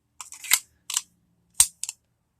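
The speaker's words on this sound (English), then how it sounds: "drop the slide, drop my mag" A Colt 1911 pistol's slide slams forward and its magazine drops free, giving a few sharp, close metallic clacks and clicks separated by short silences.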